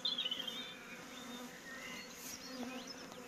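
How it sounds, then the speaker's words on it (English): Agitated honey bees around a hive in a beekeeping apiary, several buzzing close by as individuals zip past the microphone over a soft steady hum of the colony. "these bees are a little upset at me now"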